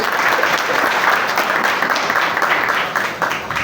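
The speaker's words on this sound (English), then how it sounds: "Mheshimiwa deserves a bigger applause than that." A full audience at a business event with a member of parliament for Kamukunji gives loud, sustained applause, a dense, even roar of clapping that dips slightly near the end.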